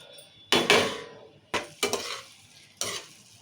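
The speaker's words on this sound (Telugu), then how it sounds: "ఇప్పుడు టమాటాలు వేసి కలుపుకుంటున్నాం కదా" Tomatoes frying in oil in a pan and stirred with a utensil, giving a steady sizzle broken by a few louder scraping stirs against the pan, close up.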